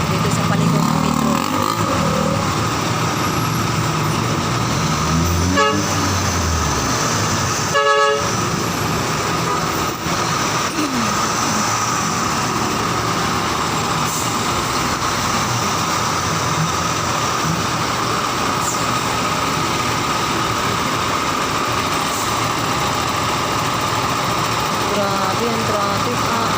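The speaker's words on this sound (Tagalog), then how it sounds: "Tindi ng traffic dito mga kalods." Heavy road traffic in a hot, congested street: idling engines rumble continuously while car horns toot briefly, and a person talks over the traffic noise.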